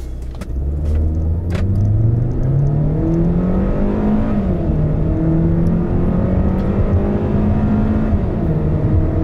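A 2019 Hyundai Sonata DN8 accelerating hard during a test drive, its engine droning loud and close with a steadily climbing pitch, a brief dip at a gear change, then rising again over road noise.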